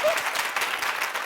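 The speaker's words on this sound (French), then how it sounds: "Merci d'applaudir pour le spécialiste de la chorégraphie" A studio audience on a TV entertainment show claps for a choreographer, giving a brief burst of dense, fairly close applause with a faint voice underneath.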